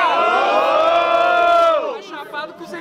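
A crowd at a student rap battle in Guarulhos, São Paulo, roars and cheers loudly with shrill whoops, then the noise drops to scattered shouts and voices.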